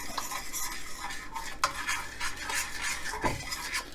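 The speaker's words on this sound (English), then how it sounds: "as you add it, you stir it" A spoon stirs liquid into a sauce in a pan on a switched-off burner for oven apple juice baby back ribs, giving continuous close scraping and swishing with light metal clinks and a faint sizzle, no talking.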